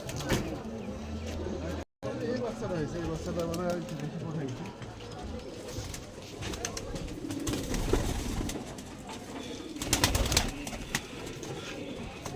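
Young pigeons on a rooftop coo in low, repeated throaty calls close by, with someone talking over them almost the whole time.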